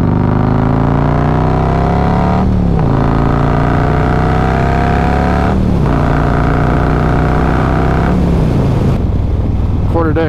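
Harley Davidson Road Glide motorcycle riding, loud steady engine drone rising through the gears with three shifts where the revs drop and build again, heavy wind and road noise throughout.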